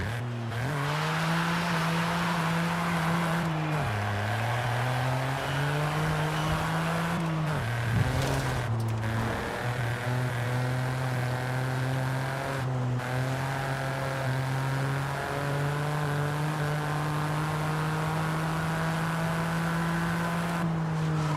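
A Ford Fiesta ST's 1.5-litre turbo engine drones loud and steady while driving in Forza Horizon 5, its pitch climbing slowly through the revs and dipping at several gear shifts, with no talking over it.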